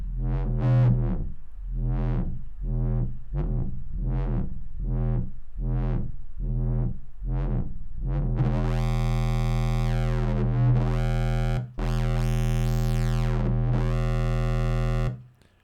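Distorted hardhouse bass from a Sylenth1 pulse oscillator, loud and gritty, first as a run of separate rhythmic stabs, then as a sustained, harsh, buzzing tone with sweeping harmonics. No voices.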